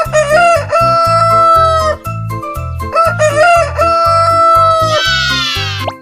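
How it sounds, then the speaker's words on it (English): Rooster on a farm crowing loudly, two long cock-a-doodle-doo calls with clucking fowl sounds between, over a steady background of music. "The rooster, the wake-up call."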